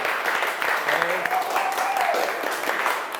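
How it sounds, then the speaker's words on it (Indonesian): A classroom group claps for the third presenting group, a brief spread of light applause from a small crowd of students, with a faint voice and tone running underneath. "Ya, beri aplaus dulu untuk kelompok 3."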